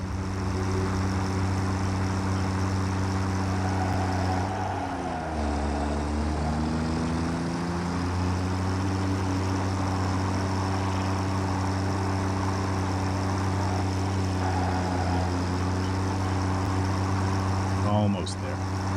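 Tractor hauling coal in the factory game Satisfactory, its engine a loud steady droning hum. The pitch dips and climbs once partway through as it changes speed, then settles back to an even drone.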